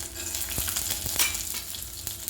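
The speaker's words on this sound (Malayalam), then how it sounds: "അതൊന്ന് നന്നായിട്ട് ഒന്ന് ഫ്രൈ ചെയ്തെടുക്കുക" Peanuts fry in hot oil in a pan after mustard seeds have popped, part of a traditional corn uppumavu. A steady, close sizzle carries on throughout, with a few sharp clicks of a spoon stirring against the pan.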